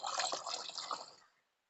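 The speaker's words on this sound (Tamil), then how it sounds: "அதுல ஊத்தி கலந்துக்கலாம்." About three litres of water are poured into a neem oil insect-spray mixture, a close, bubbling, splashing pour that runs steadily and then stops abruptly into silence.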